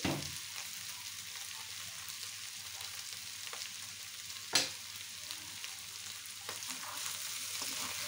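Spices such as roasted cumin powder being stirred and fried in a pan with cauliflower, a steady soft sizzle with faint scraping, one sharper clatter of the spatula partway through, no talking.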